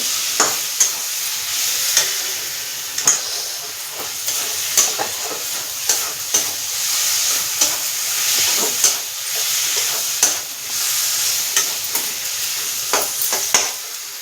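Potatoes and masala for egg curry fry and sizzle steadily in a pan, with a spoon stirring through them in frequent scraping knocks, close and loud.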